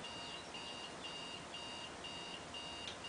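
A digital alarm clock beeps in a steady repeating pattern of short high tones, about two per second, alone and fairly faint.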